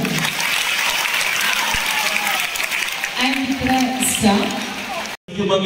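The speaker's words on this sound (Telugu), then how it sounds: "గట్టిగా చప్పట్లు" A school audience claps loudly at a magic show, a dense sustained wash of applause with a few voices calling out, running steadily before cutting off abruptly near the end.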